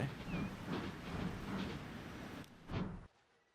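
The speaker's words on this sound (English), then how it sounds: "This very long train's come by." A very long train rolls through a station in the video game Transport Fever 2, a steady rumbling pass with faint clatter that swells briefly near the end before cutting off.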